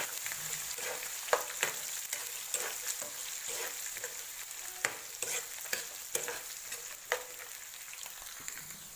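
Chopped green chili and onion stirred and fried in oil for kanda batata poha, a soft sizzle punctuated by repeated sharp spoon scrapes and taps against the pan, no voices.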